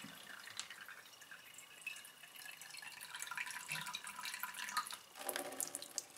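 Water trickles and drips through a miniwell L901 collapsible filtration system, with faint, irregular droplets splashing and a soft wet patter that briefly strengthens near the end.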